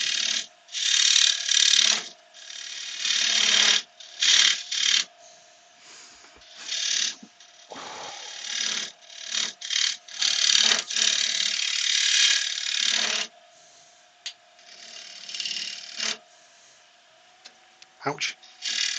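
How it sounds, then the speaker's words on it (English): A metal scraper works a walnut bowl spinning on a wood lathe, giving bursts of close, raspy scraping that start and stop repeatedly over a steady low machine hum. "Just use the scraper just to clean that up a little bit."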